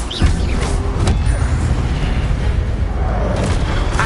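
Expelliarmus disarming spell cast in Hogwarts Legacy on PS5, a deep booming magical burst with a sharp crack at the start, set in dense, continuous game audio for about four seconds.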